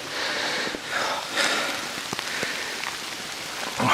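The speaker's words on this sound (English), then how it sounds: "Oh, proper rain." Heavy rain pours steadily onto a path in Australia's Blue Mountains, a dense, continuous hiss close to the microphone with scattered louder drops and splashes throughout.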